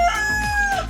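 An injured hen, recently attacked by other birds after getting tangled in a net, gives a short, loud clucking call from close by while kept in quarantine on a farm.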